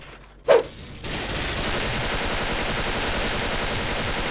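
Sustained gunfire from an ALCAD M4A1 in the shooter game Special Force, a sharp single shot followed by a continuous dense burst of rapid fire that holds steady to the end.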